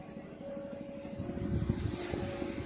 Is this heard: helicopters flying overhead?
yes